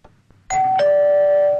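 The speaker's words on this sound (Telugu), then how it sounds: "రింగ్టోన్ ఏంటన్నా కాలింగ్ బెల్ లాగా ఉంది అది కాలింగ్ బెల్లే అన్నా" An electronic doorbell sounds indoors, a loud two-tone ding-dong with the second tone ringing out and sustained, heard alone.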